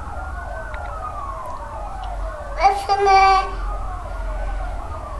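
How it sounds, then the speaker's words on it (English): An ambulance siren wails from a distance in a slow rising and falling sweep, while a voice and a brief adult remark sound over it. "that is the sound of an ambulance"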